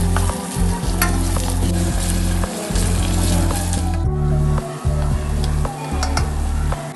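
Sliced large onions sizzle loudly in a hot pan for mutton biryani, with scraping stirs breaking in every second or so; no one speaks.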